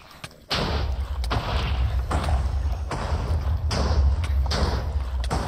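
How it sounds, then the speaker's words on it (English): Fireballs in a Minecraft-style video game, a series of heavy muffled thumps and booms landing every second or so over a continuous low rumble, loud and close, no talking. "OMG fireballs?"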